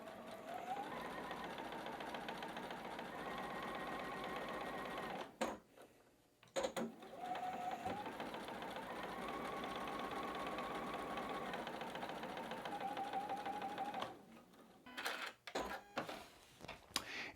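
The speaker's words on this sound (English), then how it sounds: "now we're going to sew across." A sewing machine stitches across a quilt block seam in steady, whirring runs, pausing briefly twice for repositioning before resuming, fairly quiet and close with no talk.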